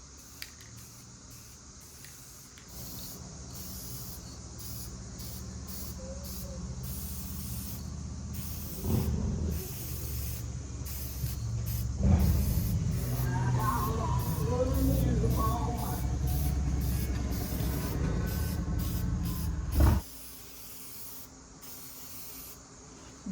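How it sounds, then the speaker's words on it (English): Aerosol spray paint hisses onto a 1200HP race truck in a garage, in several long sustained bursts with short pauses between them, fairly close and loud. "We have resulted to spray painting on it."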